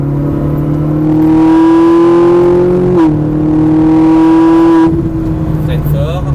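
A Ferrari 458 Italia accelerating on a race track, its engine howling loud and close as the pitch climbs steadily, dips briefly at a gear change, then rises again before easing off.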